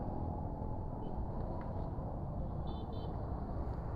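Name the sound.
city street traffic in Kampala, Uganda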